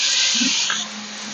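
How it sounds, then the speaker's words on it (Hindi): Mushrooms drop into hot butter with browning garlic, setting off a loud, steady sizzling hiss that fades slightly after the first second and then continues more quietly. "इस स्टेज पर हम इसमें डालेंगे हमारी मशरूम"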